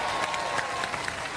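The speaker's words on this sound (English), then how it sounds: "Give them a round of applause, ladies and gentlemen." A studio audience at a robot combat show applauds in a dense, continuous patter that fills the short moment without letting up.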